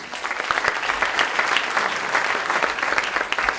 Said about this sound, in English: I want to give Neil, who is a bon vivant, raconteur, and a gastronome extraordinaire, another round of applause